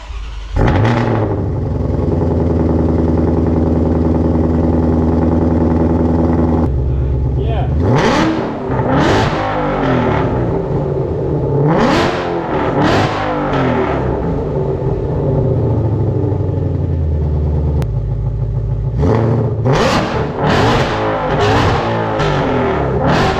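A 2020 Ford GT500 fitted with Kooks headers cranks over and settles into a loud, rumbling idle, then barks through several sharp revs, falls back to a throaty idle and revs hard again at the end.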